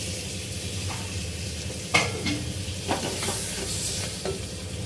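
Masala being stirred in hot oil for a vegetable biryani, a steady sizzle and frying hiss with a few scraping spoon strokes against the pan, close and alone.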